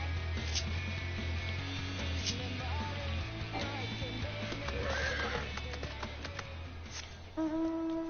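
A horse in the video game Final Fantasy online neighs and whinnies over a steady low musical drone, with faint hoof clip-clops and a few soft game-like effects.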